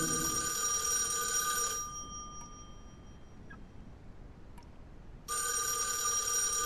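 Telephone ringing in the horror game [REC] Paroxysm: a loud electronic ring sounds alone, pauses for about three seconds of quiet room tone with faint ticks, then starts again.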